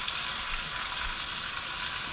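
Bacon fat sizzles in a pan while pork shoulder is seared, a dense, steady crackling hiss that stays loud and close throughout, with no voices.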